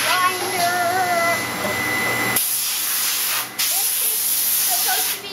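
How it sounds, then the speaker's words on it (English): Ski grinding machine running in a ski shop, a loud steady whine and hiss with an abrupt change in pitch partway through, while a person speaks briefly over it. "Grinder!"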